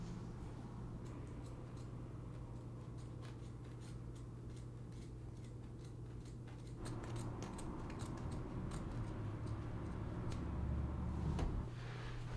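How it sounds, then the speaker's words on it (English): Scissors cut through fabric along a Sharpie line, giving quiet, close, repeated snipping clicks over a soft steady background hum. "I'll cut like right along the edge of the Sharpie to try to get rid of as much as possible"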